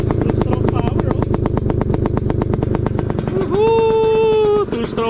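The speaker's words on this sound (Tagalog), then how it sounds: "Tumutunog na yung makina. Ayun oh. Two-stroke power oh." A two-stroke MPX 250cc dirt bike engine runs close and loud with a rapid, rattling pulse, and a raised voice breaks in over it near the end.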